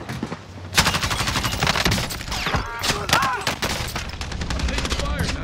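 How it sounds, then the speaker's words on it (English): Rapid bursts of automatic gunfire and scattered shots in a Call of Duty: Modern Warfare battle, loud and continuous, with radio chatter and voices mixed in. "Taking fire."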